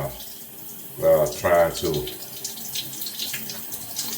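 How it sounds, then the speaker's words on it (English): Shower water running steadily as a continuous hiss in a bathroom, with someone speaking over it at moderate volume. "I've been in the shower now"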